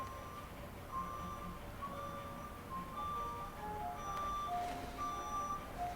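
Faint tonal beeping from a vehicle outside, intermittent electronic tones over a low rumble of an engine in the distance.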